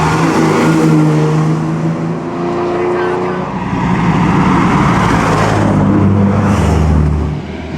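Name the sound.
four-cylinder Ferrari engine at the Mille Miglia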